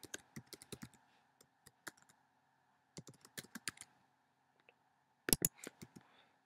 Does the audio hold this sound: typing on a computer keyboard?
yes